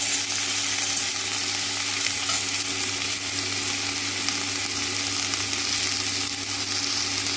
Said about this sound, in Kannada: ಬಟ್ ಹುರಿದು ಮಾಡೋದ್ರಿಂದ ಟೇಸ್ಟ್ ಸ್ವಲ್ಪ ಚೆನ್ನಾಗಿರುತ್ತೆ